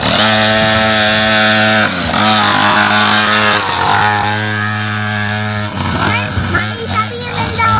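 A motorcycle engine runs steadily and loudly close by, with a buzzing, even drone that roughens and shifts near the end as the throttle changes.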